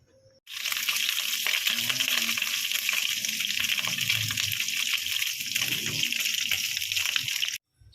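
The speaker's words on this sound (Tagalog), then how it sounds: "Piprito na po tayo." Tomatoes, onions and ginger hit hot oil in a pan and fry with a loud, continuous sizzle that starts abruptly and holds steady for several seconds before cutting off.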